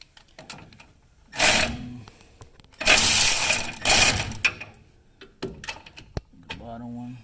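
The front wheel hub of a 2007 Chevy Colorado is turned by hand, giving bursts of rough mechanical grinding and clicking between quieter gaps, with people talking nearby.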